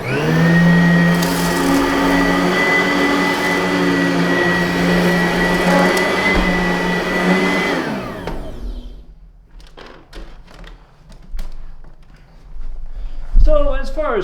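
Simplicity Riccar R10 upright vacuum picking up cereal from carpet, a loud steady whine for about eight seconds before it powers down, followed by quiet clicks and handling noises.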